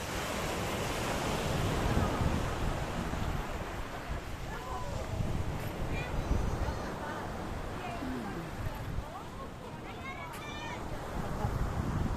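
Surf washing onto the beach at Pantai Babah Koala in Aceh, a steady broadband roar of breaking waves with wind buffeting the microphone, continuous and fairly loud throughout with faint voices in the background.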